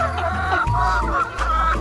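Chickens cluck in a busy, overlapping chorus as they peck at pieces of fried chicken, the calls close and fairly loud with no talking over them.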